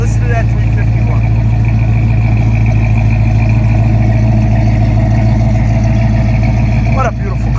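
A frame-off restored 1956 Chevy 210 with a 350 V8 idles close up, a loud steady low rumble with a constant throb throughout and brief faint sounds over it near the end.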